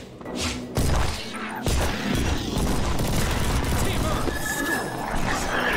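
Rapid machine-gun fire in the looter shooter Solomon Snow, a dense, loud, continuous rattle with heavy thuds, running nearly the whole clip amid busy game noise.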